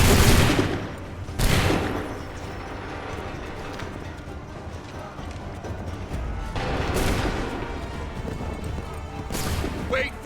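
Massed musket volleys in Assassin's Creed III Remastered, several loud booming bursts spread across the battle with hoofbeats clopping steadily underneath and occasional shouted commands.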